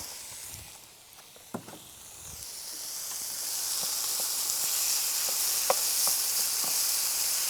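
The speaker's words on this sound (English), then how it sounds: "So putting my mince." Mince sizzles in an electric pan, a steady broad hiss that swells after a quiet start and then holds, with a few sharp clicks and pops from the pan and utensil. No one speaks.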